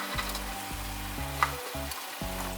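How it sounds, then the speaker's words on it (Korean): Soft tofu stew bubbling in a pot as prepared vegetables go in, with sizzling and clattering, stirring bursts that start and stop several times, close and moderately loud. "찌개가 바글바글 끓으면 손질해둔 야채를 모두 넣어줍니다."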